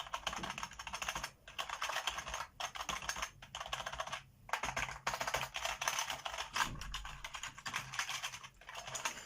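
Rapid typing on a budget Polosmart gaming keyboard clatters close up, bursts of keystrokes with short pauses between them.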